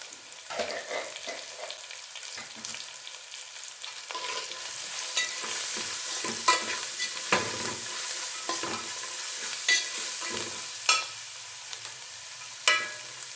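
Sliced onions sizzle and fry in a pan for lemon rice, a steady hiss with occasional stirring scrapes and sharper pops, fairly close and moderately loud with no talking.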